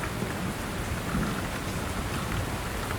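Steady, dense rain pours through a nighttime thunderstorm with many lightning strikes, a constant hiss of drops on surfaces with low rumbling beneath, and no voices.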